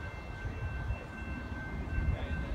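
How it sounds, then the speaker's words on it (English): A steady low rumble of an inbound Metra commuter train arriving at Riverside, Illinois station, with a constant mechanical hum and a faint high tone throughout, no voices. "The next inbound Metra train to Chicago is now arriving in your station."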